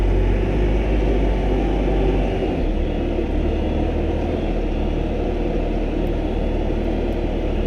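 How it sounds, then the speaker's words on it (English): A skid steer mixing concrete, a steady loud low engine drone with churning rumble, constant throughout and near, with no voices. "we're mixing the concrete in the skid steer"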